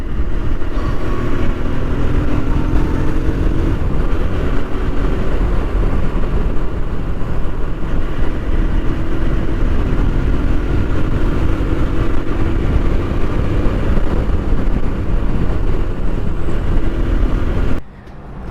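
An Apache RTR motorcycle engine drones steadily and loudly for the whole stretch while riding, with rushing wind-like noise, cutting off abruptly at the very end.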